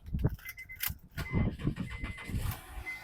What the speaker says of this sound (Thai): เดี๋ยวเรามาดูในส่วนของห้องเครื่องและฟังเสียงเครื่องยนต์กันบ้างนะครับผม